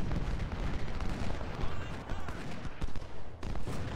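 Continuous cannon and artillery fire booms in the Ultimate General Civil War game, with dense overlapping blasts and rumbling volleys rolling steadily without pause.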